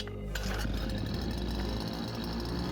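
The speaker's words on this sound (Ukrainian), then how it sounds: "І ось наша коса завелася без проблем, я би навіть сказав, з півоберта." A Vitals Master BK 553s Black edition petrol brush cutter starts for the first time and settles into a buzzing, rattling two-stroke idle close by, loud and unbroken after a brief quiet start.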